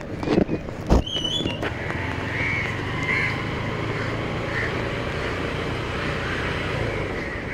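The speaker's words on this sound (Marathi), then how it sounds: "आणि ही आहे आपली M2M बोट," The M2M ferry between Mandwa and Mumbai, heard as a steady low engine and water rumble from on board, with a couple of brief knocks near the start and faint higher tones drifting over the drone.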